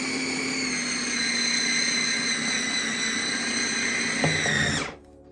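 Electric hand mixer beating pie dough of butter and water, a steady high whining motor hum with bright harmonic tones held for about five seconds, a brief knock near the end, then abruptly switched off into silence.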